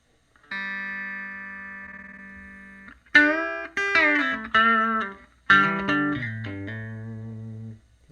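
An electric guitar runs through a Two Notes OPUS simulating a Fender 6L6 pentode power amp, opening with a long sustained chord, then several struck chords and notes that ring and fade, clean and close.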